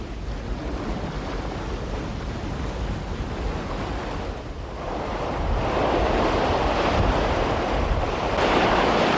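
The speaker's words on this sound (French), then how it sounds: "parce que là, vraiment, il y a trop de vent" A strong east wind blasts across the seashore, roaring steadily with crashing surf underneath and growing louder partway through, buffeting the microphone with no voices.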